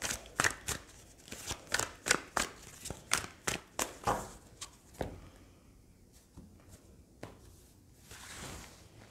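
Rider-Waite tarot cards being shuffled by hand, a rapid series of crisp riffling bursts close up, then a few softer, sparser card sounds in a quiet room.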